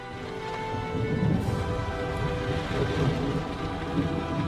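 Steady rain pours down continuously, a dense wash of noise with low rumbling underneath, with no voices present.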